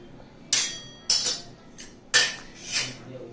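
A spoon stirs a nut health drink in a cup, giving five sharp metallic clinks at uneven intervals against near silence, close and fairly loud.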